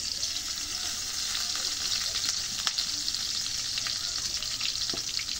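Onions frying in oil in a pan, a steady close hiss of sizzling with occasional soft stirring scrapes, no voices.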